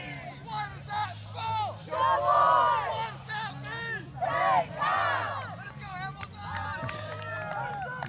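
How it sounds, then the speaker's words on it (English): A college rugby team in dark jerseys shouts a spelled-out cheer in a rhythmic series of loud group calls, with crowd noise and chatter around them on the tournament field. "It's a neat little cheer."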